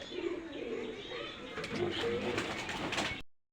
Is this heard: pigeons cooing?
yes